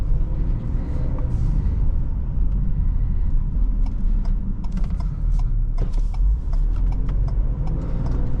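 Heavy engine rumble of a Ford Police Interceptor Utility SUV with a 400 HP EcoBoost engine accelerating, heard from inside the cabin, steady and loud, with some mechanical rattling.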